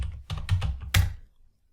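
Quick bursts of keystrokes on a computer keyboard while a command is entered on a Cisco router CLI, about five close, crisp clicks in a short run, alone.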